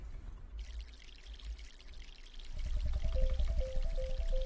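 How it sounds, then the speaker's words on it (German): Water poured onto a sunflower in the MySims video game: a soft hiss gives way to a louder, steady splashing stream, with a chiming tone entering near the end. "Okay, Sonnenblume. Jetzt einmal hier gießen."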